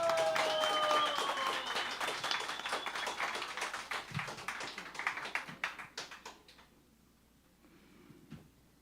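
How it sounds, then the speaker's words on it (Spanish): Audience welcoming a visiting Colombian music group with a round of applause that starts full and fairly dense, then thins into a few scattered claps and dies away into near silence. "queremos recibirle con un fuerte aplauso"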